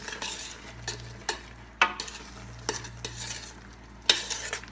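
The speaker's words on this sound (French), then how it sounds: "vous laissez mijoter encore un peu, vous remuez pour que ça aille partout le goût" Apple compote simmering in a pot and being stirred, with a spoon scraping and knocking against the pot in several sharp strokes over a soft bubbling hiss, close by with no talk.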